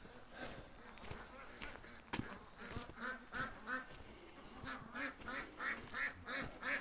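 Several ducks quack in a quick run of repeated calls, growing more rhythmic and insistent toward the end, set against faint background noise with occasional sharp clicks.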